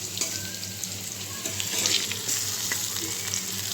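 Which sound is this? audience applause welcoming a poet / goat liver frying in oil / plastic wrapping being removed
goat liver frying in oil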